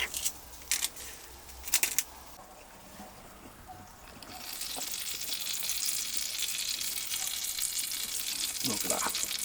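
A ham and cheese toastie frying in a pan in a motorhome kitchen, a few clattering knocks first, then a steady bright sizzle building up and holding, close by, no talk.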